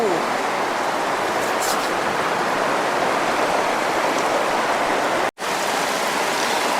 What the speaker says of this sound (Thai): สำหรับคืนนี้นะคะเรียบร้อยเจอฝนอีกแล้ว